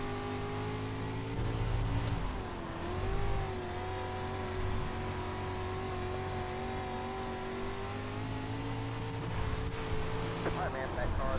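Engine of a dirt street stock car in iRacing at Limaland, a droning motor with rising and falling revs held steady throughout at moderate level, joined by faint background noise.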